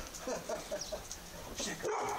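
Candy the dog gives a quick run of short, high, yappy barks, fairly faint and close together, with some soft background noise between them.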